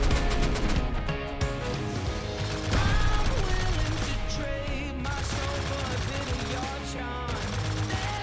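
Rapid automatic gunfire rattles in bursts during a firefight in the survival game Rust, aimed at a shotgun trap, loud, dense and continuous, with layered shots and a music-like tonal bed running throughout.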